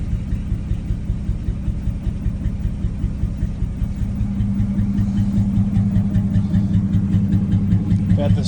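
An old truck with a 225 slant six engine runs steadily, a low, even rumble that deepens and grows slightly louder halfway through, with no talk over it.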